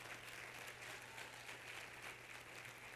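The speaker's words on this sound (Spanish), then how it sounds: "Dele un fuerte aplauso al Señor." A church congregation applauds, a continuous, even roar of many hands clapping heard at a distance and fairly faint, with a low steady hum beneath and no voices.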